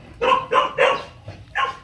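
A small dog barks four times in a quick, fairly close series, then gives one more bark after a short pause, with no talking.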